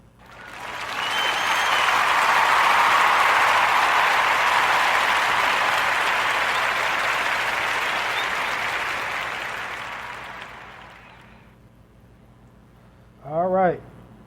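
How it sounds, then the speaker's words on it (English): A loud, sustained round of applause from a crowd of clapping hands fills roughly eleven seconds on a podcast before tapering off, followed by a brief tonal flourish at the end. "join me into giving our sister Sha'Carri Richards a Warm Narrative podcast round of applause for her latest accolades"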